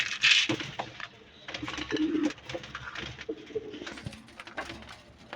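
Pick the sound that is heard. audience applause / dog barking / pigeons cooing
pigeons cooing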